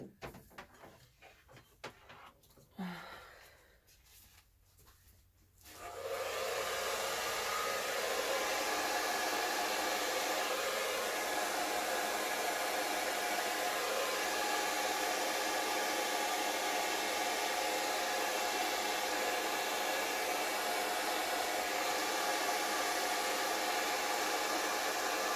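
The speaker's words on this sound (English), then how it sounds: "I'm going to do the hairdryer on low" A hair dryer on its low setting switches on after a few seconds of quiet shuffling, then blows with a steady, loud, unbroken whoosh over gold-sprayed acrylic paint for the rest of the clip.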